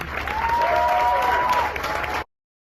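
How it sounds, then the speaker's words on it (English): Applause from a crowd at a Starbucks union meeting, a steady dense clatter of many hands lasting about two seconds before cutting off abruptly, with a faint tone running beneath. "Let's have a round of applause for that"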